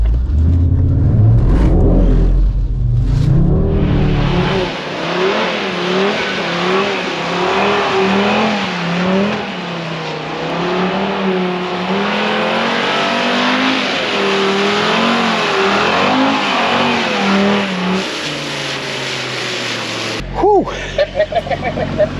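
A 2022 Audi RS3 Sportback with a 400 hp engine held in a drift, its engine revving loudly and continuously with rising and falling pitch, a brief tyre or throttle burst near the end.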